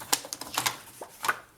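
Paper being cut for a scrapbooking folio makes a quick run of crisp, light snips and clicks, close and quiet, lasting under two seconds.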